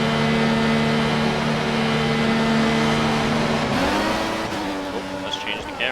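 Formula 1 car engines whine at steady high pitch in the racing game F1 2014, a sustained tonal drone that shifts pitch partway through as the view changes, with someone talking over it.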